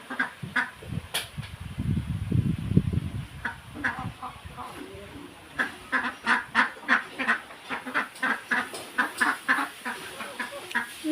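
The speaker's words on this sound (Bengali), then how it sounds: "হাঁসগুলো কেমন করে আমার দিকে দেখছে" A group of domestic ducks quacking nearby on a village veranda, first scattered calls, then a rapid rhythmic run of loud quacks, with a person talking over part of it.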